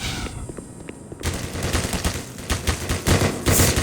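A large turret fires rapid bursts in the Black Mesa remake of Half-Life, dense overlapping shots that start abruptly after a quieter moment and keep hammering loud and close with no voices.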